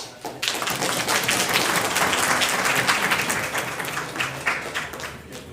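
Dense applause from an audience at a Constitution Day seminar, a steady wash of clapping that starts abruptly, holds strong for several seconds and tapers slightly at the end.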